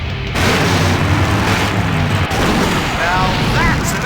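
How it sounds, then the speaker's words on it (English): A big explosion in the 1995 adventure video game Full Throttle booms loudly from the start and rumbles on as a sustained roar with debris crackle, while a voice speaks over it. "Now that's an explosion"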